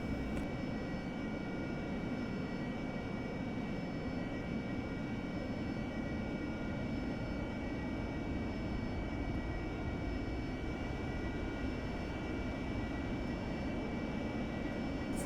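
An AV-8B Harrier jet taxiing onto the runway in the DCS flight simulator, a steady, droning engine roar with a whining high tone held evenly throughout, no voices.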